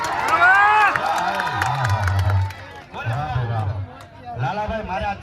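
A crowd at a public gathering in Jasdan cheers and shouts with scattered clapping, loudest at the start and then coming in uneven swells, with voices talking over it.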